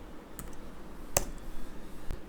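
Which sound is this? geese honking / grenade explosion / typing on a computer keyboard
typing on a computer keyboard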